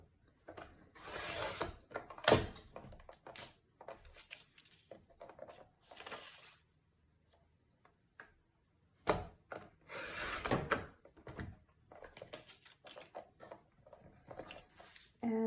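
Paper trimmer blade slicing a sheet into 1-inch strips, giving several separate clicking, ratcheting cutting strokes with quiet gaps between them, close by and fairly soft.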